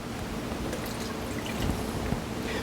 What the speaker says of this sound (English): let's add a little bit more water to it